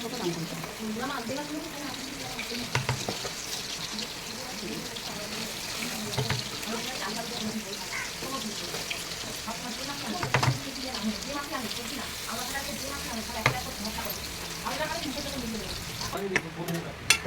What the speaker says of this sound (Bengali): আমি এখানে করে ডালের বড়ি ভেজে নিচ্ছি। তেলটা আমার গরম হয়ে গেলে ডালের বড়ি ভেজে নিচ্ছি এর সঙ্গে।